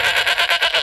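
A goat bleats in a short, loud, wavering call with a series of pulsing cries, heard alone with no talking.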